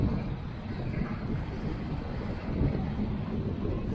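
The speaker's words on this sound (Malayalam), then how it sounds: "നല്ല കാറ്റുമാണ്, നിങ്ങൾക്ക് അതിന്റെ സൗണ്ട് കിട്ടാമെന്ന് പ്രതീക്ഷിക്കുന്നതാണ്." Strong, cold wind buffets a boat at sea on the Red Sea during a fishing trip, a steady loud rushing roar with low rumbling gusts that swells slightly toward the end, with no voices.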